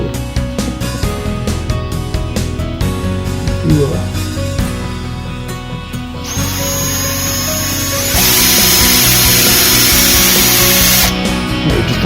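A power drill bores a small pilot hole for a screw in wood resting on a fence, its motor whine rising steadily and loud near the end after scraping and handling noises.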